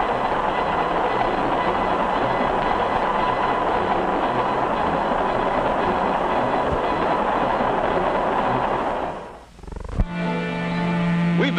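Passenger train rolling along rails, a loud steady broadband rumble with a continuous roar that dips briefly near the end before a heavier clattering passage resumes close by.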